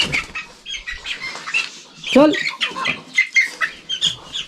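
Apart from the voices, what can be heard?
chickens flapping and squawking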